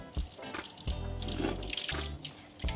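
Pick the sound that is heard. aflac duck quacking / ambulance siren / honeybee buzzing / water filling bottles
water filling bottles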